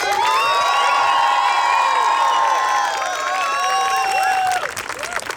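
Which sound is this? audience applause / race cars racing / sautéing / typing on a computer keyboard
audience applause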